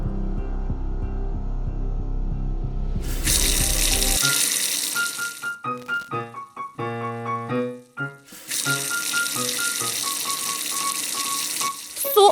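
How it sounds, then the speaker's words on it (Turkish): Water runs steadily from a tap, a loud continuous rushing splash that starts partway through, stops briefly, then resumes alongside faint musical tones. "Suyu açacağım."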